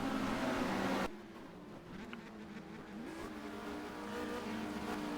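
Touring race cars pass at Le Mans in a 1990 race, with a loud engine roar that cuts off suddenly, followed by fainter, more distant engine drone in the background.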